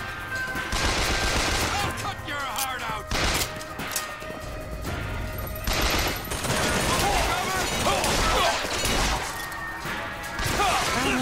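Rapid bursts of gunfire and crashing impacts in a busy BioShock Infinite game soundscape, loud and nearly continuous with brief lulls between volleys.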